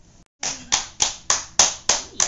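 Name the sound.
child clapping hands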